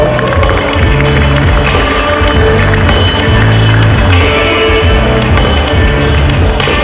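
A pageant audience applauds loudly and steadily, a dense wash of clapping and crowd noise that holds for several seconds, with an indistinct voice over it.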